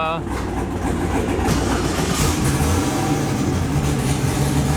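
An LS-swapped Ford Mustang engine cranks and catches, then settles into a loud, rough idle close by, with a voice talking over it.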